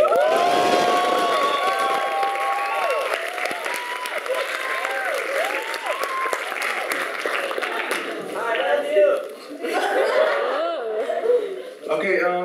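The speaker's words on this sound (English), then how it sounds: "So please give a round of applause to Mr. Rowan Chen" A student association audience applauds and cheers a speaker being welcomed to the stage, a sustained crowd roar with laughter and scattered shouts while a voice talks over much of it.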